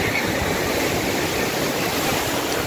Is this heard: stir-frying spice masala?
no